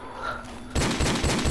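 Gunfire in Call of Duty Modern Warfare Remastered, a close, loud burst of rapid shots breaking in abruptly after a quieter moment, with repeated sharp cracks.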